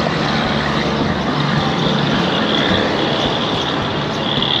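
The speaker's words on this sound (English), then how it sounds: "But the main road's right beside us here. There's a big truck." A big truck rolls past on a main road beside a roadside stopover area, a broad steady rumble of engine and tyres heard fairly close and loud.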